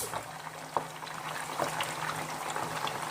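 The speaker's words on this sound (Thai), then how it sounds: "เราจะทอดให้มัน เหลืองกรอบเลยนะครับ" Catfish pieces deep-frying in hot oil for a crispy southern Thai chili-paste stir-fry, giving a steady, close bubbling sizzle with scattered crackles and pops, no voices.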